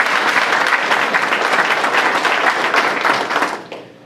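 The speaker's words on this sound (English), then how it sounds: "let's give him another round of applause for his service" Campaign rally crowd applauding a county official, a loud, dense round of clapping from many people that holds steady, then fades out in the final moments.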